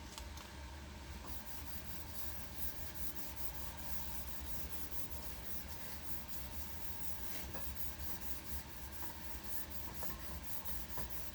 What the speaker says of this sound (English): spray my cloth with a little bit of the wax and grease remover and then just wipe it on those spots.